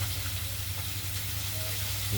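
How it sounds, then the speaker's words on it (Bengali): Pieces of katla fish fry in hot oil with a constant, close, dense sizzle that holds steady throughout. "আর মাছগুলো তো ভাজা চলছে"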